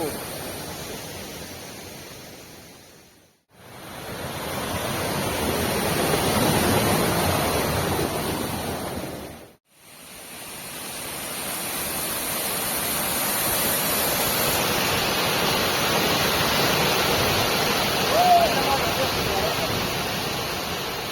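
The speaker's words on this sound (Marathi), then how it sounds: "इकडे पण एक धबधबा आहे" A steady, loud rushing roar of a waterfall fills the clip, cut by two brief silent gaps, with faint voices underneath.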